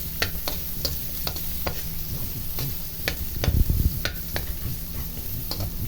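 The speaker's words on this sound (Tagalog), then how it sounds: "Haluin lang natin. Hayaan lang muna nating mag-golden brown yung ating mga ingredients" Ingredients fry in a pan before tomatoes are added, with a constant soft sizzle broken by a regular series of scraping, clacking stirs and a brief louder burst of stirring midway.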